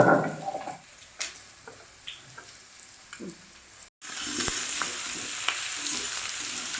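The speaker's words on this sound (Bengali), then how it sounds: "আলু পেঁয়াজটা নাড়াচাড়া করলাম।" Potatoes and onions hiss in a hot pan as a spoon stirs them in soft scraping strokes. A louder, steady sizzle rises partway through. The sound is close and there is no talking.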